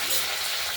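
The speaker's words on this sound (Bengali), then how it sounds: "এবার ঠিক সাইজ মতো কেটে আমরা কড়াইতে তেলে ভাজা বসিয়ে দিয়েছি।" Cut katla flat beans fry in hot oil in a kadai, giving a steady, even sizzle that fills the short moment without any talking.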